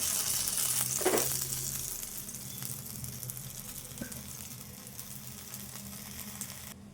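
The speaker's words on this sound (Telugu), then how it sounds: "చాలు ఇట్లా వేగితే సరిపోద్ది మిర్చి" Green chilies frying in oil in a pan, giving a steady close hiss and sizzle that gradually softens, with a faint clink partway through and no talking.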